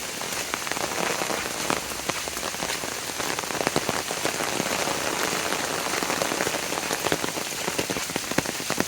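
Heavy rain pouring down in a countryside setting with flooded ponds, a dense, loud patter of drops on surfaces that never lets up.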